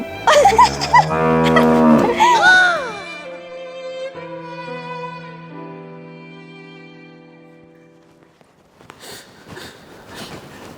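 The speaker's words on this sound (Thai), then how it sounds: "ควายแท้ๆไม่มีวัวผสม" A water buffalo, purebred rather than cattle-crossed, lets out a loud, close, drawn-out moo that slowly fades over several seconds, followed by a few soft snorts and rustles.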